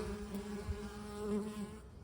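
Many bees drone and buzz at a Warre hive entrance in winter, a steady, layered hum up close, a dense swarm sound with no talking.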